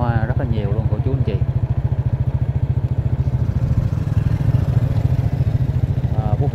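A motorbike rides at night through the Phú Mỹ Hưng flower market on the evening of the 28th of Tết, its engine putting out a steady, close, rhythmic drone throughout, with bits of market chatter and clatter around it.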